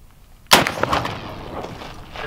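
A 20mm cannon fires a single round at a titanium target outdoors, one sharp loud blast followed by a rolling echo that decays over a couple of seconds, with no talk.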